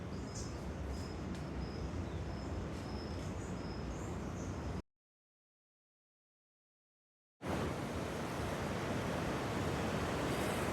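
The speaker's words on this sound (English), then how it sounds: "The Pacific Ocean meets some river." Pacific Ocean waves roll in where a river meets the sea, a broad, constant roar of surf mixed with wind. Faint bird calls sound early, and the roar drops out briefly before returning, with no one talking.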